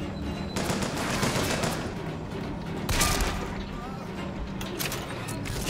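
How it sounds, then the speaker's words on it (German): Gunfire in the video game Bioshock Infinite, a steady dense clatter of shots and impacts with louder bursts, continuous over the full stretch. "Aua, wer schießt und von wo?"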